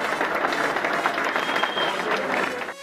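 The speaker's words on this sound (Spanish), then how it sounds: "Démosle un aplauso a él." Dense, loud applause from a crowd honoring a player at a provincial youth sports games celebration in Urrao, a steady wash of clapping that fades slightly at the end.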